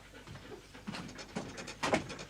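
A dog named Rastus pants softly in short irregular breaths, close by and fairly quiet, with faint rustling around it.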